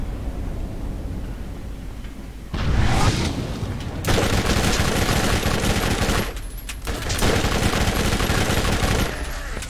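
Gunfire in the Borderlands video game, dense bursts of rapid automatic shots in loud sustained volleys separated by brief lulls, up close.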